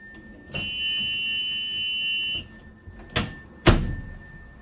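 An emergency exit door buzzer on a Durham Pomona transit bus sounds one steady tonal buzz for about two seconds during a pre-trip inspection, followed by two sharp door clunks.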